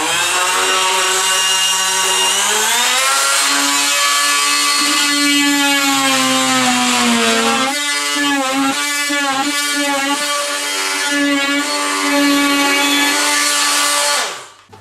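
Oscillating multi-tool cutting a sink vanity unit panel, a loud buzzing whine that rises in pitch, wavers as the blade bites through the board, and stops sharply at the end.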